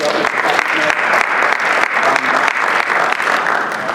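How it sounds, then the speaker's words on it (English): Loud, sustained applause from a crowd at a legislator's community meeting on traffic and pedestrian safety, dense and steady for the whole stretch with no break, honoring a community member in the back of the room. "Let's give him a round of applause."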